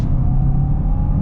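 2025 Hyundai Santa Fe Hybrid accelerating, a brief steady engine drone with a low rumble heard from inside the cabin, alone without talk.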